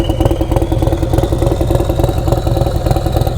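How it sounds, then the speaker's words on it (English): A turbocharged Harley-Davidson Street Glide with a Stage 4 131ci engine starts and settles into a loud, close, lumpy idle with a steady rapid pulsing beat and a faint high turbo whine above. "Let's go ahead and start it up, let you guys hear what it sounds like"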